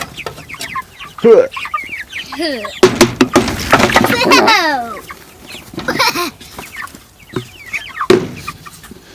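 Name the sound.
chickens clucking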